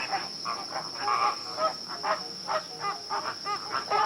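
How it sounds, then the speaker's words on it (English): A flamingo colony gives grunting, honking calls, a steady stream of short nasal honks overlapping in an irregular chatter against a constant background hiss. "Flamingo, grunting or honking sounds."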